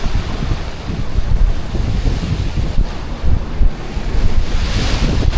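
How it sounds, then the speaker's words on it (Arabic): Sea waves washing ashore at El Max near Alexandria, a loud continuous roar of surf with bursts of wind buffeting the microphone, no voices. "هسيبكم كده مع صوت البحر كده عشان تعيشوا معايا الاجواء"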